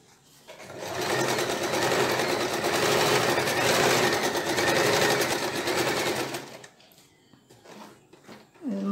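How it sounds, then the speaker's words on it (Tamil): Sewing machine running a stitch through fabric in a sewing class, a loud, steady close whir that lasts about six seconds and then stops, followed by faint handling clicks. "நான் எப்படி இப்போ தைக்கிறேன்னு பாருங்கள்."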